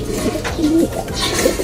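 A female racing pigeon cooing close by, low soft throaty coos repeating over roughly two seconds against a steady background hum.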